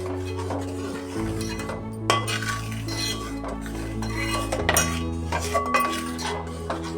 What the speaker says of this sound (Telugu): ఇలా కలుపుతూ ఉండాలండి.